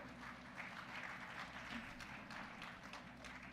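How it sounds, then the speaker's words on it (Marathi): An audience applauds a poet being honoured at a Lions Club poetry gathering, a faint, steady patter of clapping from a crowd heard at a distance. "इतर जोरदार टाळ्या झाल्या पाहिजेत"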